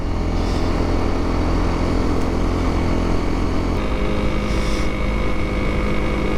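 Honda CRF250L motorcycle, 24 horsepower, climbing a steep hill: a steady, continuous engine drone with wind rush, constant and fairly loud throughout, with no talk.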